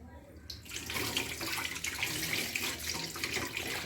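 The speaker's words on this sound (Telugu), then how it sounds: "నేను ఇప్పుడు చేతులు కడుక్కుంటే" Tap water runs steadily into a kitchen sink during handwashing, a broad continuous hiss that starts abruptly and keeps flowing at close range.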